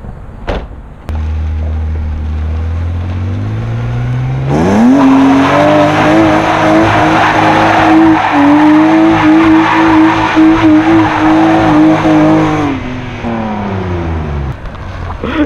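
A BMW E36 convertible doing donuts: the engine idles, then revs up hard and holds high while the tires squeal continuously for several seconds before the revs drop back, loud and close with no talking.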